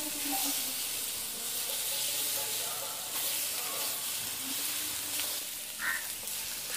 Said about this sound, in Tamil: இந்த உள்ளியும் இஞ்சியும் அந்த பச்சை வாசனை போகிற மட்டும் கொஞ்சம் நல்ல எண்ணெயிலேயே வதங்கட்டும்.